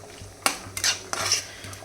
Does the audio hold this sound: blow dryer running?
no